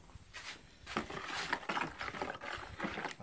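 Stirring fresh water mixed with catfish eggs and sperm in a container during fish spawning and fertilization, giving soft, irregular sloshing and trickling splashes close by that continue without pause.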